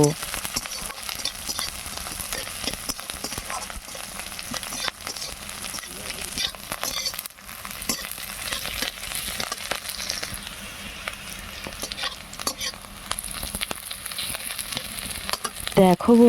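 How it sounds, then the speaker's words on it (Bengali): Browned onions and slit green chillies fry in oil for a village-style mutton curry, a continuous close crackling sizzle broken by irregular stirring scrapes. "চেরা চেরা কাঁচা লঙ্কা দিয়ে পেঁয়াজটাকে আর একটু কিছু সময়ের জন্য ভেজে নেব"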